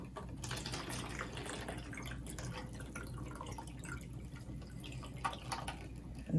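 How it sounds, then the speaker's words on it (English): Water is poured into a cut-off water bottle cup used as an indoor garden planter, a steady close trickle and splash that continues unbroken for several seconds. "add some water."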